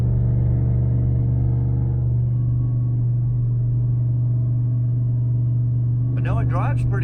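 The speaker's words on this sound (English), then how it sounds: "you can't hear if there's any tire noise because of that loud exhaust" The loud exhaust of a 2002 Chevrolet Avalanche drones steadily while driving, a deep, constant low hum that fills the cab. A brief burst of talk enters near the end.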